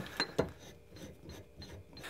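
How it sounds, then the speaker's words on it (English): A ratchet drives a bolt into a homemade camera steadicam rig, giving two sharp clicks followed by a softer, quick run of ratcheting clicks, close and quiet with no talk. "So now all I'm going to do is I'm going to ratchet in this bolt."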